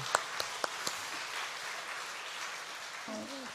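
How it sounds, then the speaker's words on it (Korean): A church congregation at a Thursday dawn prayer service applauds for its young people, a steady wash of clapping with a few sharp nearby claps at the start, then a brief voice near the end. "우리 청년들을 위해서 박수 한번 날까요?"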